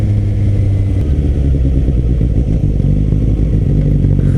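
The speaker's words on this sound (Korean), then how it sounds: "이 아이들링 소리가 너무 좋은 것 같아요 우웅 하는 이 소리가" A Suzuki GSX-S750 motorcycle engine idles while the bike is stopped, giving a steady, loud, close low rumble that runs throughout without a break.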